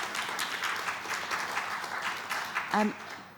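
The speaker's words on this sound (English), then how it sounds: "do give Dada some applause" Audience applause at a youth climate leaders panel event, a moderate steady patter of many hands clapping with a brief voice sounding near the end.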